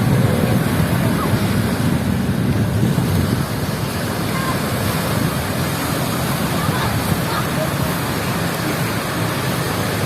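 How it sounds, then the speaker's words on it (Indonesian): Surf breaks onto a sandy beach at Labuhan Jukung, Krui, a constant loud wash of waves with heavy wind rumble across the microphone and no clear individual crashes. "di sini mecah ombaknya di pasir"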